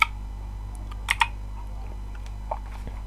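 A few scattered keystrokes on a computer keyboard, close and crisp, with a pair of clicks around the middle and quieter taps later, over a low steady hum and no talk.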